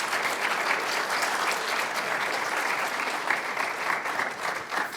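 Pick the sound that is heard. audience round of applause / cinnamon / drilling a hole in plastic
audience round of applause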